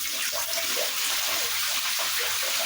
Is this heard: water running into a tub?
yes